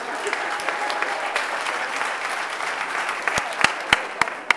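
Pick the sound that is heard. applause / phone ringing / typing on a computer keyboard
applause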